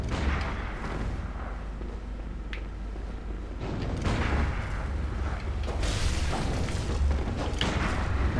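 Enemy gunfire in Bloodborne, heavy booming shots and thuds repeating irregularly over a loud, rumbling game soundscape, with several sharp blasts standing out.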